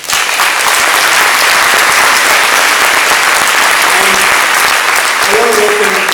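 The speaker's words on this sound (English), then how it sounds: "Please, round of applause for Rob." Loud, sustained applause from a lecture-hall audience at an evening public talk on the extinction emergency, dense steady clapping filling the whole stretch, with a voice faintly emerging near the end.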